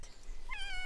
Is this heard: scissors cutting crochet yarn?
no